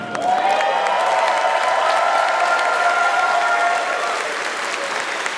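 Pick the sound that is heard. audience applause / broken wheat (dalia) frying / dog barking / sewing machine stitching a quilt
audience applause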